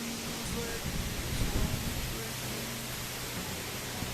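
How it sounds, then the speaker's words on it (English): A small waterfall in Colombia pours in a steady, broad rushing hiss close by, with a brief voice rising faintly under the constant water noise. "Not bad for a little waterfall."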